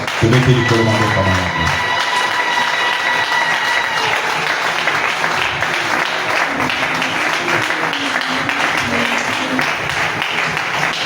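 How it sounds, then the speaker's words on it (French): A church congregation applauds and cheers loudly for God in a sustained wash of clapping, after a brief voice at the start. "Est-ce qu'on peut acclamer pour Dieu?"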